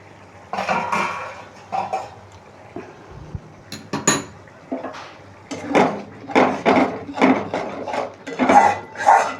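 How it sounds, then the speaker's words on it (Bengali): A cooking pot of paneer butter masala being uncovered and stirred, a series of clattering metallic clinks and scrapes of lid and spoon in uneven bursts, close and moderately loud. "ঢাকনাটা খুলে একটু দেখি"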